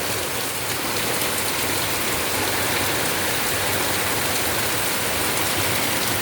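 Heavy monsoon rain pours down in a dense, steady roar, loud and close, with no let-up and no voices.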